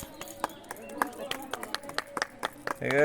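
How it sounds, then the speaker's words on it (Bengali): Scattered hand claps break out at an anniversary cake cutting, quick irregular slaps mixed with voices talking nearby. "হাততালি"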